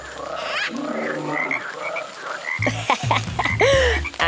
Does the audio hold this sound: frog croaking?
yes